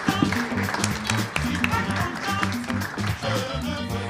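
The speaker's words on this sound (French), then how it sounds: "On les applaudit." An audience applauds at a French hip hop event, a dense crackle of clapping under low rhythmic background music, continuing steadily for a few seconds.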